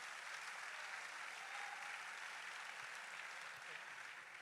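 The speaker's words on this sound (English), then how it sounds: "let's please give an applause as I welcome Bright Simmons" An audience at an education forum applauds to welcome a speaker, a steady, fairly distant wash of clapping that continues throughout.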